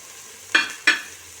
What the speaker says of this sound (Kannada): ಈ ಪೇಸ್ಟ್ ಚೆನ್ನಾಗಿ ಹಸಿ ವಾಸನೆ ಹೋಗಬೇಕು, ಫ್ರೈ ಹಾಕಬೇಕು